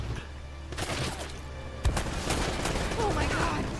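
Gunfire in Uncharted: Drake's Fortune, a dense, loud fusillade of rapid shots with a sharp burst midway, under faint voices.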